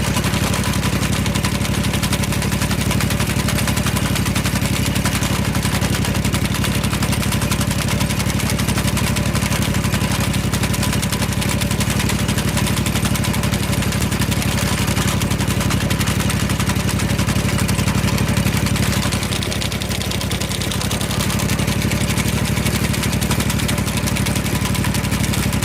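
A Simplicity sickle mower runs on a 2210 V-twin tractor, the engine droning steadily with a rapid chattering clatter from the cutter bar, close and continuous, dipping briefly near the end.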